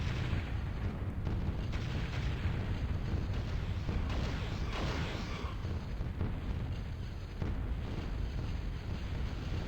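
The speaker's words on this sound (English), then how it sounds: "Look at that artillery fire." Artillery fire in the strategy game Total Annihilation Escalation, with dense overlapping booms and blasts rumbling steadily throughout, broken by sharper bursts, faint and without voices.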